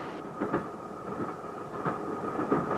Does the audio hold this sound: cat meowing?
no